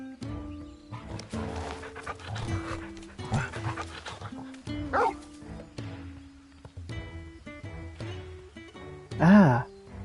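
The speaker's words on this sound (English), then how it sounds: "This is Torgal, a wolf pup raised in the duchy." A wolf pup in the Final Fantasy XIV video game pants and whimpers among game sounds and background music, with a louder yelp-like cry rising near the end.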